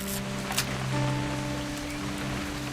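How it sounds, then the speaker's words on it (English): Steady rain patters in the video game What Remains of Edith Finch over a soft background hum with faint tonal drones, continuous and moderately loud, with no talking. "It's gonna rain the whole weekend, isn't it?"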